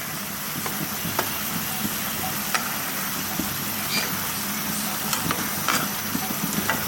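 Gentle stirring of kofta frying in a pan, a soft continuous sizzle with light scraping strokes at an unhurried rhythm, close by and steady throughout.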